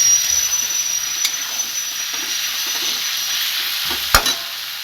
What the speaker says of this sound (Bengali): আমি পরিমাণ মতো নুন হলুদ দিয়ে দিয়েছি কড়াইতে, দিয়ে এখন ভাজা শুরু করব